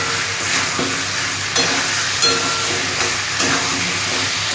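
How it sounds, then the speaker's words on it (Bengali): Potatoes and taro being sautéed with spices, salt and sugar in hot oil for a singi fish curry: a steady close sizzle with periodic scraping stirs, no voice. "আমি এবার মশলার সাথে আলু কচুগুলো কষিয়ে নেব ভালো করে"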